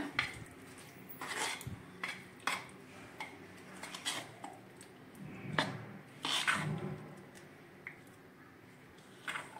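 Idli batter with chilli and salt being stirred in a bowl for appe, giving soft squishing sounds and scattered light clinks of a spoon against the bowl, close and fairly quiet.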